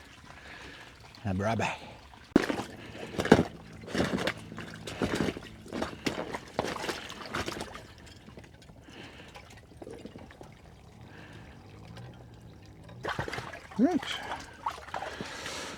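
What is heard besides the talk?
water being emptied out and trickling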